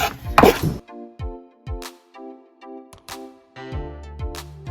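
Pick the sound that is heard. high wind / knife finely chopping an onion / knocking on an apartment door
knife finely chopping an onion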